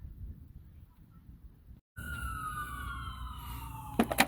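Fire department sirens sound nearby, a wailing tone gliding over steady outdoor background noise, fairly faint, after a brief cut in the sound.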